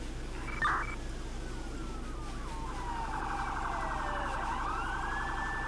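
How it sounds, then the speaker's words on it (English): Modded emergency vehicle sirens in the Emergency 4 game, a rising and falling wail with a warbling yelp that sweeps in pitch, loud and continuous over a low engine hum, with no talking. "These sirens are pretty freaking cool."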